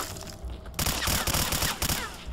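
Automatic gunfire crackles in STALKER: Clear Sky as enemies shoot at allied fighters, a dense, loud burst of rapid overlapping shots over a constant battle-noise background, with no talking.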